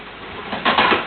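Wood pigeon cooing in a few soft, rounded notes, moderately close, rising in the second half of a brief outdoor moment with no talk.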